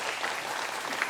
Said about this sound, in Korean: 뜨거운 박수 올려드리겠습니다.